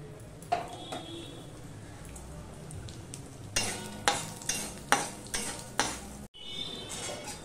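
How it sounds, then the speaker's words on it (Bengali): Halved dried red chili and panch phoron frying in hot oil for a spiny gourd dish, with a soft sizzle under a series of sharp spoon taps and stirring clinks against the pan. "একটা শুকনো লঙ্কাকে দুটো ভাগ করে দিয়ে দিলাম। দিয়ে দিলাম 5 ফোড়ন।"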